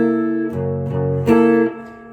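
A guitar plays a riff built on the 7 sharp 9 chord. Loud, ringing chord stabs and sustained tones shift twice, with strummed attacks and no talking.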